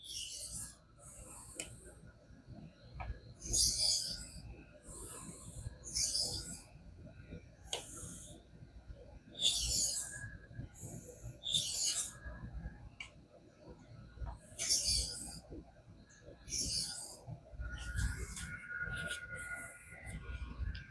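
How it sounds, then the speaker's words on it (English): Knife blade drawn edge-leading across a King whetstone with light pressure, a series of short, soft hissing scrapes at an irregular pace, close and quiet. "We're going to make a couple edge leading passes. Lighter and lighter pressure."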